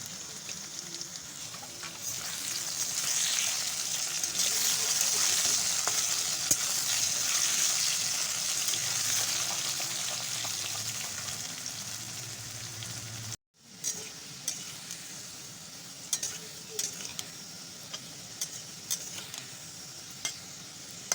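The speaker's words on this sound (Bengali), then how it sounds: "এবার হচ্ছে আলুগুলো ভেজে নেব" Steady oily sizzling of potatoes frying in a pan, loud and continuous, then a brief cut followed by quieter sizzling with occasional sharp crackles.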